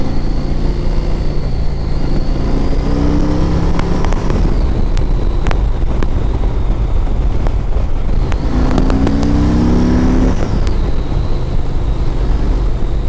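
A 2007 Yamaha Road Star 1700cc motorcycle rides along on a test drive. Its steady engine drone and wind rumble run throughout. Two rising engine-pitch sweeps come through as it revs and passes other bikes.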